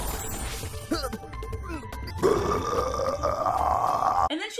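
A long, monstrous cartoon burp from a Trolls character, loud and drawn out for several seconds with a rough, strained rasp, preceded by clattering comic sound effects and a brief voice.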